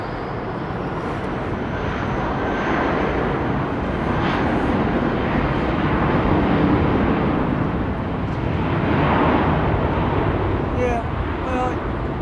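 An airliner's jet engines roar steadily at London Heathrow Airport, swelling slightly in the middle, while people talk over the noise.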